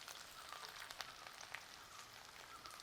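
Ginger and garlic sizzle and crackle in hot oil in a pan, a steady faint frying hiss with small pops, no voices.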